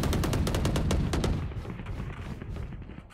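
Rapid gunfire from the tactical shooter Valorant, with a fast, even burst of loud shots up front, then a few spaced single shots fading under a softer, rumbling backdrop.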